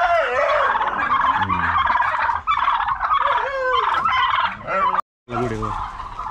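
Turkeys of several breeds on a small backyard farm gobble loudly and close by, overlapping in a continuous rattling chorus that breaks off for a brief silent gap near the end before starting again.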